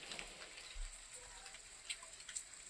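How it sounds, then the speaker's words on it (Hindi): Rain falling steadily outdoors during a monsoon spell at a home in India, a soft continuous patter with occasional louder drips and ticks, fairly faint and without talk. "और वापस से बारिश हो गई स्टार्ट।"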